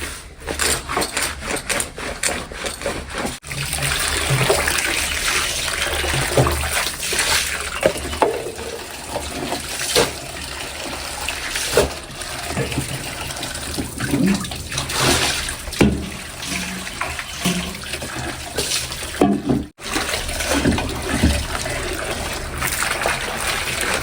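Clothes being hand-washed and soaked in water with detergent gel, continuous close splashing, sloshing and wringing with irregular swishes throughout, no clear talk.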